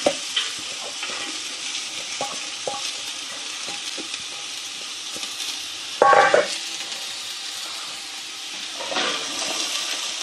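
Chopped carrot frying in olive oil for a simple tomato sauce, a steady close sizzle with light stirring clicks and one louder burst of crackle midway, no talking.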